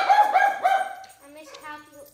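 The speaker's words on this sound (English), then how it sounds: "Those are my dogs." Several dogs bark, with a few sharp barks in quick succession up front giving way to softer yips and whimpers, fairly close in an indoor home setting.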